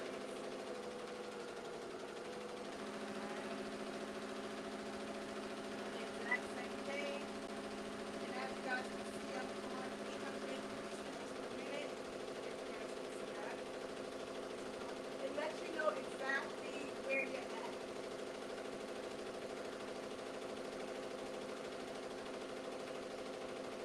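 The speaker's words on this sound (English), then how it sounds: "while that's embroidering, let me come a little bit away from it because I know the embroidery machine can be a little loud sometimes" An embroidery machine runs with a steady mechanical hum, stitching appliqué designs on a 10S Marquee 2002 panel. It drones evenly throughout with faint clicks on top.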